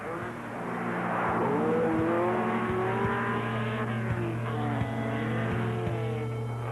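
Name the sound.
Alpine-Renault Berlinette rally car driving on a frozen lake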